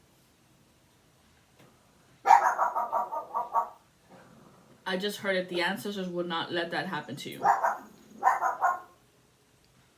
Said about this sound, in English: the guard dogs are at their post, full enforced, at the hour of every hour